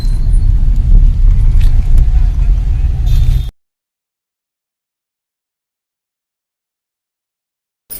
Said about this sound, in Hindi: देख मेरा गाड़ी निकल रही